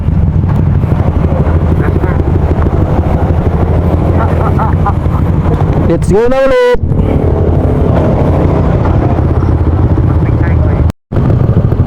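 A repaired motorcycle rides along a road in the Philippines, its engine and wind roar steady, loud and close for the whole stretch, while a rider briefly speaks over it.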